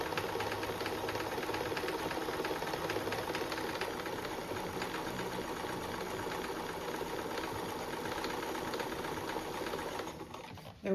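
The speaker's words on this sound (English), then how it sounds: "zigzag stitch the edges." Sewing machine running a zigzag stitch along the edges of a fabric seat cushion cover: a steady, fast mechanical whirring with rapid rhythmic ticking that runs evenly for several seconds, close and alone, then eases off at the very end.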